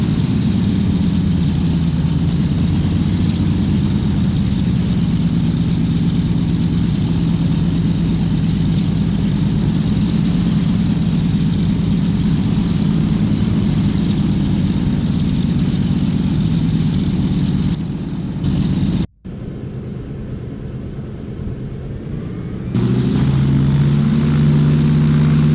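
Twin propeller engines of a DC-3 airliner roaring steadily at full throttle in the Flight Simulator X video game, a loud continuous drone that cuts out briefly near the end before resuming.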